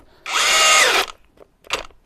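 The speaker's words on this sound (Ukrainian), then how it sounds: "Подивимось, чи здатен перфоратор просверлити отвір моїм улюбленим злим сверлом на 32 мм" A Procraft PHA30 rotary hammer drives a 32 mm bit into wood, whining loudly for about a second before cutting out, followed by a shorter second burst of straining drilling.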